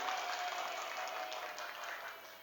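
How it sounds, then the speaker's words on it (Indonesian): Classroom students clapping during an Islamic creed and ethics lesson, a dense, steady patter of many hands held evenly for a few seconds and easing slightly at the end, fairly quiet and without voices. "Tepuk tangan."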